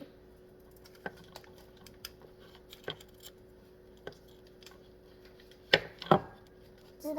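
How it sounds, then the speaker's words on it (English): A butter knife cuts cookie dough into pieces, giving scattered soft taps and scrapes against a surface, irregular and fairly close, with a couple of louder knocks near the end. "Okay, cut that one into pieces."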